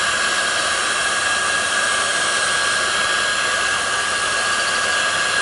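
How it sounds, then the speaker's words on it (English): Heat gun blowing steadily on organza fabric for DIY fabric flowers, a continuous loud airy whoosh with a faint whine, unbroken throughout and with no talking. "you're going to take your heat gun and just blow"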